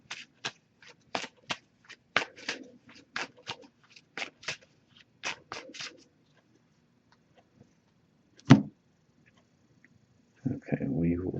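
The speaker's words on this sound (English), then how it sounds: "I'm just going to give this a few shuffles" An oracle card deck is shuffled by hand indoors, giving a quick series of crisp riffling snaps in irregular bursts, then a pause, a single sharp tap, and a final scraping rustle of cards.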